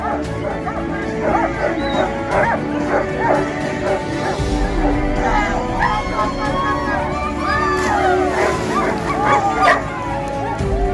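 At an air dog jumping competition, a dog barks and yips excitedly, with whimpers between repeated loud, close barks, while a crowd murmurs and other sounds continue underneath throughout.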